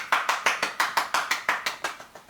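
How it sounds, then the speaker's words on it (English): A small, soft round of applause made of about a dozen evenly spaced claps in a steady rhythm, fairly quiet and close, with nothing else over it. "Round of applause. Softly."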